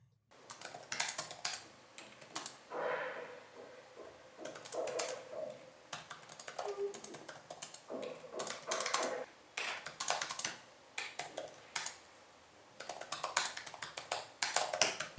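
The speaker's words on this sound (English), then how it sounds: "here's a typing test for you guys to listen to" Rapid clicky typing on an Acer Swift 5 laptop keyboard in bursts separated by short pauses, close and fairly quiet, with no voices.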